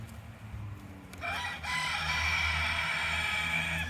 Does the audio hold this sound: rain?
no